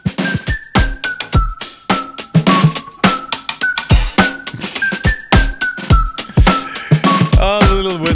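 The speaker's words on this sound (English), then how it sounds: "Oh, the little whistle thing." A little toy whistle blown repeatedly in a room, short bright tweets in an uneven rhythm, each sliding slightly in pitch, close and fairly loud with a warbling trill near the end.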